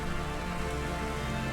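Constant rain in the rainy city of the Cloudpunk video game, a steady hiss of drops on surfaces with no break across the short clip, fairly quiet and evenly spread.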